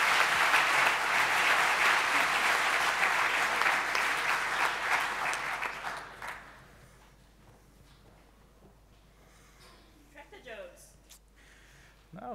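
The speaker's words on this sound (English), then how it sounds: "Big round of applause for being quick" Applause from a EuroPython 2019 conference audience after a lightning talk: loud, dense clapping for about six seconds that quickly dies away, followed by a quiet room with a few faint sounds.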